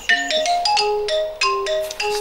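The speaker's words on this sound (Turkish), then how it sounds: "Stres yaptı, telefon çalıyor." A mobile phone ringtone plays nearby: a bright, clear electronic melody of quick stepped tones repeating in short phrases, loud and alone.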